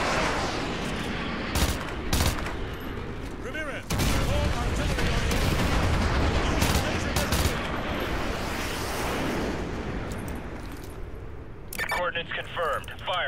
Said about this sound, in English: Fire mission received. Artillery inbound.